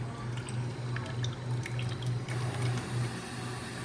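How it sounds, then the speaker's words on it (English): Drinking water trickles steadily from a water filter into a cup in a shared hostel kitchen in Florianópolis, Brazil, under a low constant hum. "if you wanna drink in water, you just need to use this filter"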